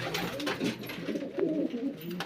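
Pigeons coo softly in a pigeon loft, several low, rolling calls overlapping close by over quiet background noise.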